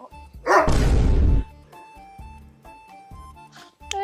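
A dog barks loudly in a single dense burst near the start, then quieter yips and whimpers follow amid low background noise in a comedy sketch.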